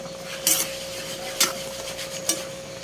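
Ladle scraping and knocking inside a pot while saluyot (jute) leaves are stirred, the bottom starting to scorch; three distinct clinks come at about one-second intervals over a low steady simmer.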